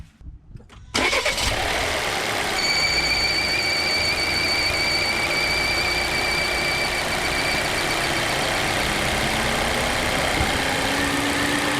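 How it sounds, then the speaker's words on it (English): A 2015 Volvo V60 T5 2.0T engine starts up and idles in the engine bay, and a loud, steady high-pitched whistling squeal rises from the crankcase breather box on top of the engine, sustained over the running motor. "heard a loud whistle slash squealing type sound coming top area of the crankcase here in the engine bay"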